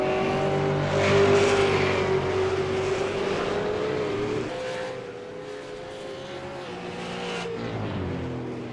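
A V8 Supercar on a hot lap at a race circuit, its engine note a loud sustained roar rising and falling in pitch through gear changes, steady and close without talk over it.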